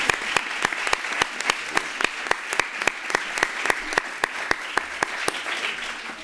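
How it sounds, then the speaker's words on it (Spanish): Audience applause at a poetry anthology event, with a steady rhythm of distinct, sharp claps standing out over a softer layer of clapping from the room. "Así que, Aurora, yo creo que un primer aplauso debemos dar para felicitarnos todos y luego seguir."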